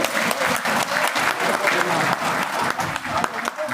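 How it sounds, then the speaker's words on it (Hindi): An audience at a contract workers' union rally claps for a union leader, a steady dense burst of crowd applause that fills the whole moment, close and loud with no break. "धन्यवाद, ताली बजाओ उसके लिए।"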